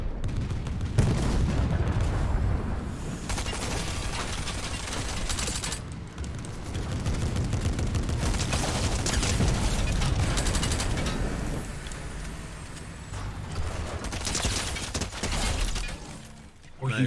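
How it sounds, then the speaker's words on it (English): Gunfire in a Fortnite match, dense bursts of shots and impacts crackling loudly and near-continuously throughout, with players talking over the action. "Hold on, somebody shooting over. Be careful."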